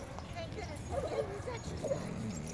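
A dog, one of a German Shepherd and a Rough Collie, gives faint yips and whimpering cries at a distance, with a couple of short high whines over quiet outdoor background.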